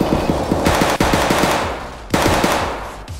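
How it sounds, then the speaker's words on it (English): Rapid automatic gunfire in Escape from Tarkov, fired in fast, evenly spaced bursts with a couple of louder cracks. The shots are close and loud, with no talking over them. "Then you're gonna have to go left and then shoot on him."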